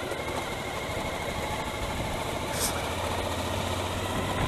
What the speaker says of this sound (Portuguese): Essa moto pra subir morro aqui é um canhão.